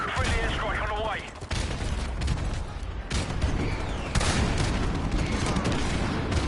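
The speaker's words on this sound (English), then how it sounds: "Friendly airstrike on the way." Airstrike explosions in the video game Call of Duty: Modern Warfare Remastered form a dense, continuous barrage of booms and gunfire, loud and rumbling throughout with heavy overlapping blasts.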